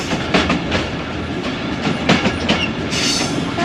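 A slow passenger train rolls along a loop line at Pejowali station on the Narowal branch line, with steady rumbling and rhythmic clickety-clack of wheels over rail joints, close and continuous, with no talking.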